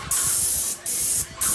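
Paint sprayer coating exterior house fascia, three long continuous bursts of loud airy hiss separated by brief pauses, close by with no talking.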